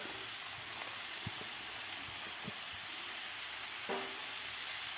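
Mixed vegetables with fenugreek and spinach leaves sauté in a pan for khichdi, a constant close sizzle broken by scattered soft knocks and scrapes of a stirring spoon, with no voices.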